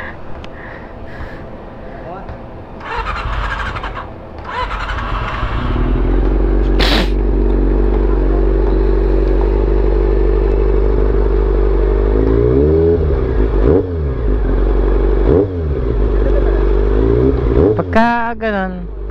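Honda CB400 motorcycle engine restarted with a suspected loose electrical connection and charging fault, air filter removed, idling loudly and roughly nearby with several throttle blips, while people talk over it.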